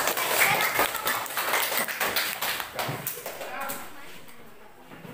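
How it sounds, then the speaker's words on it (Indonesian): Classroom group clapping for a student team after their presentation, a burst of many hands that fades over a few seconds, with murmuring voices underneath. "Tepuk tangan untuk kelompok C."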